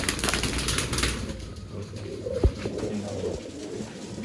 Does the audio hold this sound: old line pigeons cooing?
yes